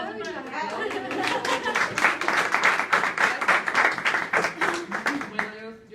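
An audience claps together at a health talk, a dense crowd of hands building into steady applause that swells and then thins toward the end, with some voices and chatter mixed in.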